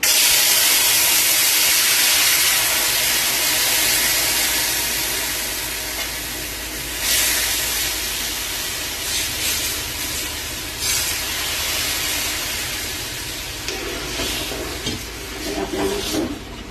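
Drumstick soup poured into hot ghee in a kadai sets off a loud, broad sizzling hiss that slowly settles into a softer bubbling simmer; no one speaks.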